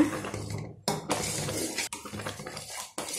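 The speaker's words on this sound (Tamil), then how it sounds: "இதை நல்லா கலருங்க." A spoon scrapes and clinks around a metal pan as semolina pongal is stirred, giving close, continuous rough scraping broken by brief pauses, with no voices.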